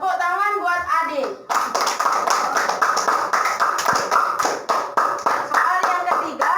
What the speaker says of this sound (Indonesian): Tepuk tangan buat adik.